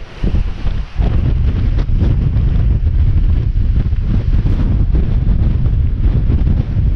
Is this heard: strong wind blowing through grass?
yes